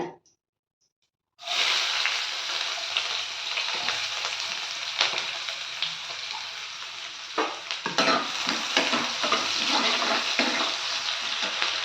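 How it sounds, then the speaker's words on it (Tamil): Onions sizzle in hot oil for a Tamil fried kuzhambu, with a loud, steady frying hiss and intermittent scraping as they are stirred. A brief silence comes first. "வெங்காயம் சேர்த்ததும் நல்லா கலந்து விட்டுக்கோங்க"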